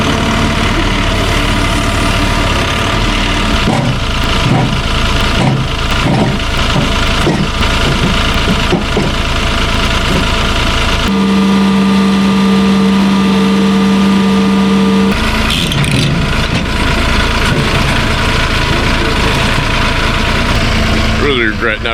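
Ditch Witch machine engine running loud and close, a steady idling rumble with a strong sustained tone in the middle section, with bits of talk around it.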